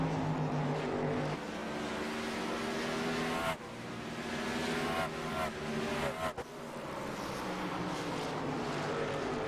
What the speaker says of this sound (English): And Joshua Buckley is now dealing with the lapped traffic as well.